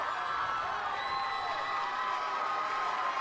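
A steady, distant roar of cheering from a high school football crowd at Rochester Adams versus West Bloomfield, sustained and even without clear peaks.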